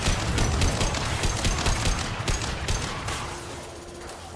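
Video game gunfire plays as a dense, rapid fusillade of shots with steady automatic bursts, loud and sustained throughout, with no talking.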